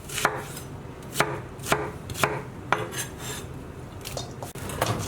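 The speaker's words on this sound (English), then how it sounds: "all we want to do with the onion is just coarsely chop it" A brown onion is coarsely chopped with a knife on a board, six or seven sharp, separate knocks spaced unevenly over a few seconds, close up, with no voices.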